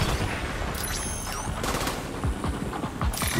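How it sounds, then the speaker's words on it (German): Covering fire in The Division 2, a dense, continuous fusillade of rapid gunshots with heavy booming low end, loud and sustained throughout with several sharper bursts standing out. "So, ein bisschen Deckungsfeuer."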